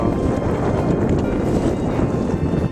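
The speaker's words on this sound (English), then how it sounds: "We do have more wind now." Strong wind buffets a sailboat on a close haul on the way to Cat Island, a loud continuous rumbling roar with gusty pulses against the microphone, no talk.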